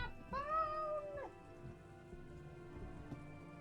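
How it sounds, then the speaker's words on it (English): Faint, steady rain sound effect in the Umineko visual novel, with a short tonal cry near the start and a soft patter continuing throughout. "Rain!"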